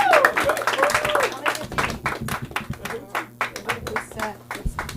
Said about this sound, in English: Give him a round of applause on the way out.